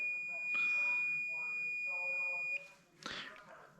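A multimeter beeps on a continuity test in a diesel fuel injector shop, giving one steady, high electronic tone for about two and a half seconds before it cuts off. Someone talks over it and keeps talking afterward.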